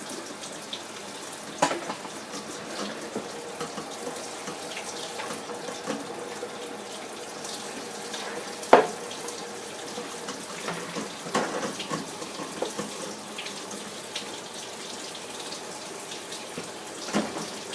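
A thin, steady stream of liquid coconut flan mixture pouring slowly, continuous and fairly quiet, with a few small clinks and knocks along the way.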